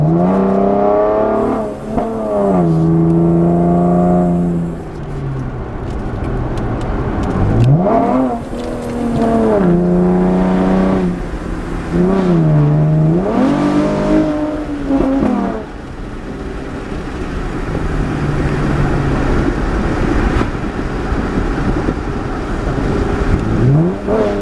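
2015 Chevrolet Camaro V6 with a muffler delete, revved repeatedly from inside the cabin, each throttle blip climbing and falling in pitch over a loud, raspy idle.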